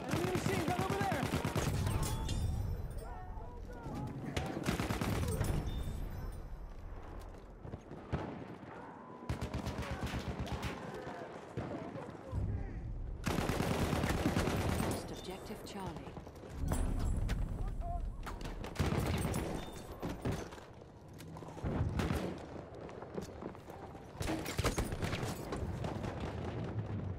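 Enemy machine gun fire on a Battlefield 1 battlefield, loud bursts of rapid shots broken by pauses and distant booms, with voices calling out between volleys.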